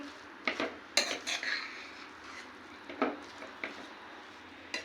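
Carrots being stirred in a metal cooking pot for carrot kheer, a series of sharp scraping clinks of a spoon against the pot with short pauses between, close and clear with no talking.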